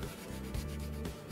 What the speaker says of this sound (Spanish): lijamos y vamos puliendo para que quede redondito